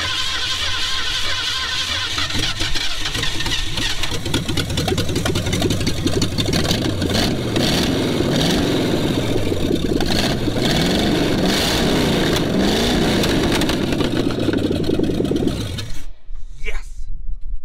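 An engine in an abandoned old Ford Mustang, sat for over 20 years, runs loud and close with a rough, uneven roar that rises and falls before cutting off abruptly near the end.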